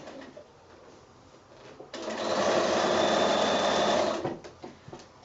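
A sewing machine stitches binding onto a quilted project bag, running in one steady whirring burst of about two seconds, with quiet handling sounds before and after.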